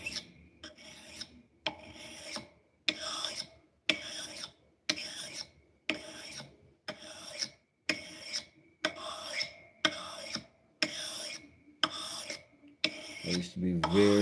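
A curved blade is rubbed back and forth on a 1000 grit sharpening stone, giving about thirteen evenly spaced rasping strokes with short pauses between them, close and moderately loud, with no talk.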